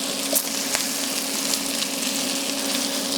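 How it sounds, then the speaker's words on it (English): Crab cakes sizzle in a hot pan, a steady close hiss of frying with small pops and crackles throughout, alone and fairly loud. "Do you fry them up like this?"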